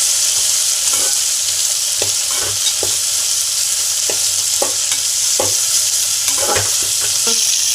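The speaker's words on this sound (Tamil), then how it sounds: "இப்போ வந்து தக்காளி போடணும் போட்டு நல்லா மிக்ஸ் பண்ணி விட்டுக்கலாம்" Tomatoes frying and being stirred in a pan for a country chicken curry: a steady loud sizzle throughout, with repeated scraping and clinking of the spoon against the pan.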